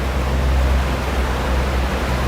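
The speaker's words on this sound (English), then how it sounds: "It's the white noise the rain makes." Steady rain during a severe spring storm in Stockbridge, Georgia, makes a dense, even rush of white-noise hiss with a low rumbling undertone, continuous and loud with no voices.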